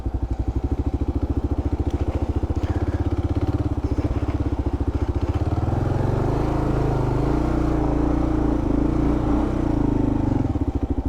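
A Kawasaki KLR650 motorcycle chugs through mud, its single-cylinder engine thumping steadily and loudly up close, the throb roughening and rising in load partway through as the bike churns on.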